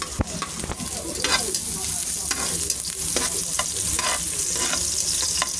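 Garlic sautéing in a pan for sopas, with a steady sizzle broken by repeated stirring scrapes and clinks at close range.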